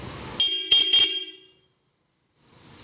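Three short blasts from a Vipper Sonic horn fitted to a Mahindra Bolero: loud, bright and close, then silence before faint background noise returns.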